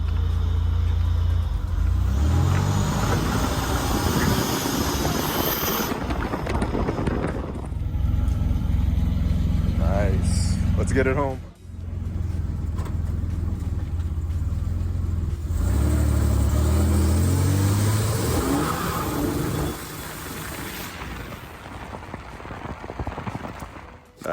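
A rebuilt Buick Grand National with new fuel injectors, chip and swapped 87 ECM drives along, its engine a steady low rumble with a revving swell, under a constant hiss of road noise and a brief spoken remark.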